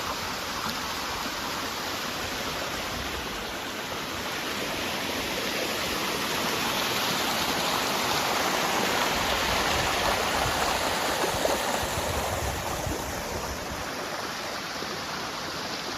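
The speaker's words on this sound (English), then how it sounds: "Right, let's get on to that waterfall." Waterfall beside the mill near the Chamberlin covered bridge in Vermont, a steady broad rushing roar that holds evenly and slightly swells midway, close and continuous with no voices.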